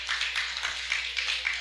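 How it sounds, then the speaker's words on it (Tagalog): A small group claps in church during a Sunday sermon, a brief burst of close, steady applause with no talking over it. "Pumalakpak nga kayo."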